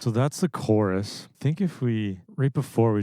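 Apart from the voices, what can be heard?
No distinct noise like a dog, phone or traffic.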